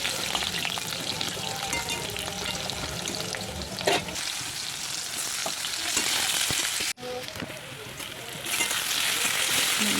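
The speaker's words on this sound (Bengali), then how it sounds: "এবার মাংসের জন্য আলু ভেজে নিচ্ছি।" Potatoes frying in an oil-filled pan before a meat curry, a steady close sizzle with stirring scrapes and a brief break near the end, no talk.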